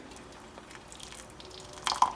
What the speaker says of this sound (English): So now I have the tea. I'm gonna pour it over.